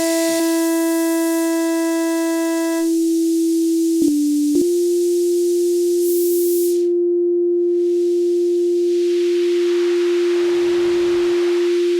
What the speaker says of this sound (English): Then you got a noise, and the noise can be controlled with low pass and high pass